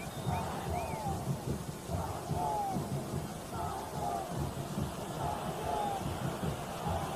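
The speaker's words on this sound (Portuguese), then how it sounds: "Torcida do São José se manifesta, no São Paulo dá o troco." Torcida of São José football supporters chanting and cheering in a packed stadium during the 1981 Campeonato Paulista final against São Paulo, a steady, distant crowd roar with rising and falling chant phrases throughout.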